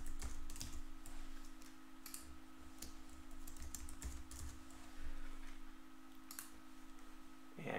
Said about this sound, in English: there might be a little extra typing